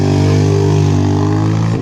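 Racing sidecar motorcycle engine at a vintage bike meeting, a loud, steady close-up drone with strong low harmonics and a slight pitch dip near the end.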